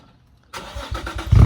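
A 2002 Lexus IS300 engine cranks after a short silence, with a repeated rhythmic churning that builds louder toward the end as it tries to start.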